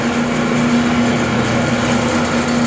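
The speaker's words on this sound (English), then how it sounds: "You can see the agitator paddles moving around in there." A rebuilt Davis S-20 paddle mixer runs steadily with its agitator paddles turning, giving a continuous close mechanical hum with a strong low drone and even motor noise throughout, with no rubbing or scraping.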